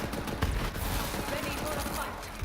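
Rapid automatic gunfire from the video game Borderlands, a dense continuous fusillade with bursts of shots layered over constant in-game noise.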